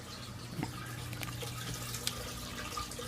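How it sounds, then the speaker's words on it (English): Tap water running steadily into a planted aquarium during a water change, a soft continuous rush and trickle at moderate distance with no talking. "And now your tank is filling up with water."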